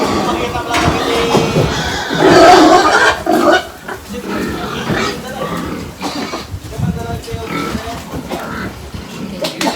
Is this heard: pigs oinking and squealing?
yes